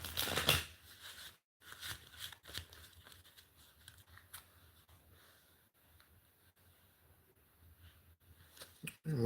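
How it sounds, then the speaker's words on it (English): A deck of playing cards is shuffled close up in quiet bursts of riffling and soft crinkly handling, separated by short pauses. "Once I finish shuffling here"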